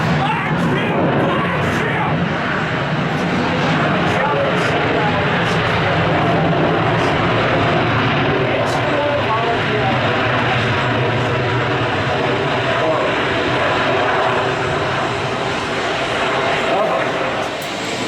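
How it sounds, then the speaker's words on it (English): A loud, steady airplane engine drones on the ground as the plane taxis at Atlanta airport, with faint clicks and a murmur of voices in the background. "Oh, God, it's such an aggressive airplane."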